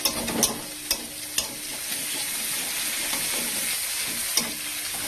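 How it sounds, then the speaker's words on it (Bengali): Spice masala with chopped coriander leaves sizzles steadily while being stirred in a pan for a spicy fish curry, with a few sharp scraping clicks from the spatula over a continuous frying hiss and no talking. "ধনে পাতা কুচিটা দিয়ে কষাবে"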